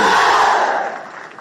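Stadium crowd at a National Youth Service pass-out parade in Gilgil letting out a loud, sustained roar of cheering and applause that gradually fades.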